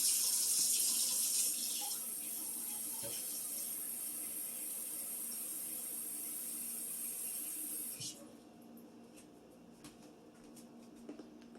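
Tap water runs into a Friends mug being filled for leftover bone-in chicken soup, a close continuous hiss that stops abruptly near the end, leaving quiet room sound with faint small knocks.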